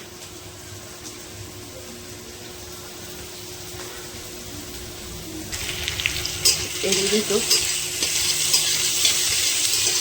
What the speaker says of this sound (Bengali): মশলাটা ভাজা ভাজা হয়ে আসছে